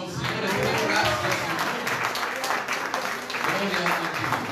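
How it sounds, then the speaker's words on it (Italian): A church congregation applauds during a worship service: sustained, evenly dense clapping from a large room of people, with voices mixed in. "Vogliamo dare un applauso al Signore?"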